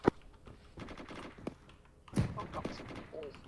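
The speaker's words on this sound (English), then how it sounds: "tell that GPMG gunner to go and watch and shoot" In Arma 3, a GPMG machine gun fires in short bursts of sharp cracks, with a strong shot at the start and a louder cluster partway through, mixed with thumps and handling noises.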